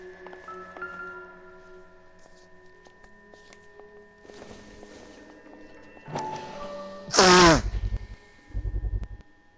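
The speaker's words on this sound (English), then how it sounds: "Sorry, the sneeze." A single sharp sneeze bursts out near the end of a quiet stretch, followed by a couple of soft thuds, with faint background tones and rustling before it.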